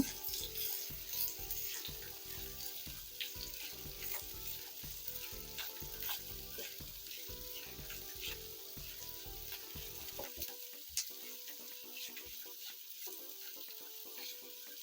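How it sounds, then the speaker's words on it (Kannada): Onions fry in a pan with a busy, close sizzle and repeated scraping stirs for about ten seconds, then settle into a quieter, thinner hiss with only occasional clicks. "ಈಗ ಆನಿಯನ್ ಕೂಡ ಹಾಕೊಂಡು ಬಿಡೋಣ ಇದನ್ನು ಸ್ವಲ್ಪ ತಿರುಗಿಸ್ಕೊತೀನಿ"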